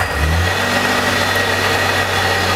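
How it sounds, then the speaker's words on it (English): A Nissan VQ40 engine with a Stillen supercharger cranks and fires up within half a second, then settles into a loud, steady rumbling idle with a faint high whine. "now we'll go ahead and start the engine"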